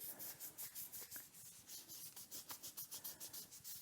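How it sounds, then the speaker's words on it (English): Kinesiology tape being rubbed briskly onto skin to activate its adhesive: a quick, regular run of soft scratchy strokes, close by and fairly quiet, with no voices. "then rub to activate the adhesive"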